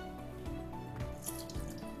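A kitchen tap runs water into a sink, a soft trickle with faint splashes and drips, quiet and close, with no voices.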